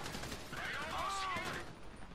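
Rapid bursts of GTA 5 gunfire crackle amid a busy, noisy mix, with tonal sweeps in the middle; no one speaks.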